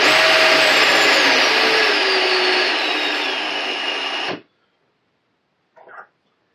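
A Metabo BS 18 LTX BL cordless drill whines steadily at high speed for about four seconds, its pitch easing slightly, then stops abruptly, followed after a pause by a short faint blip.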